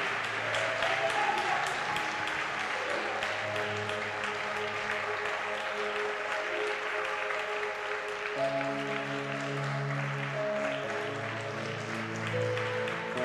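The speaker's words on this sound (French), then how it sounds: "Acclamez Jésus." A church congregation applauding during a worship service, steady sustained clapping from a crowd, moderately loud, with sustained musical tones and some voices underneath.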